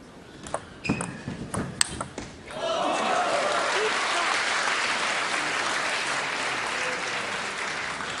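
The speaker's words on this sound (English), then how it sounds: "Thoroughly appreciated by the crowd." Crowd applauding at a women's singles table tennis final, Asian Cup 2016; a few ball pings and taps at first, then sustained loud applause filling the hall.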